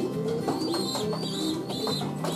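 Pigeons coo repeatedly inside a loft, soft overlapping bubbling calls rising and falling close by, with faint chirps among them.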